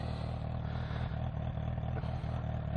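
A 2018 Kawasaki H2 SX motorcycle with an aftermarket exhaust pipe idles nearby, a steady, loud low rumble with a slight mechanical clatter, even and unbroken, with no talk.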